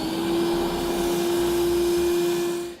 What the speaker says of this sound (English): I'm just going to come back and vacuum up all my metal shavings